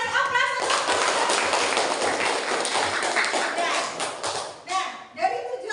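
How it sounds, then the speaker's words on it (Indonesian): Students in a classroom break into applause, a dense burst of overlapping hand claps lasting several seconds at close range, then tapering to a few scattered claps and shuffling at the end. "Terima kasih, kasih aplaus."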